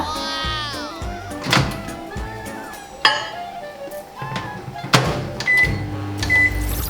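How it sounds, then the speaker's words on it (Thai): A microwave oven melts double cheese slices on instant noodles from a convenience store: door thunks and clatter, a couple of high beeps, then the low hum of the oven running. "เดี๋ยวเรานะคะจะเอาไปเข้าไมโครเวฟนะคะ ให้ชีสละลายนะคะ"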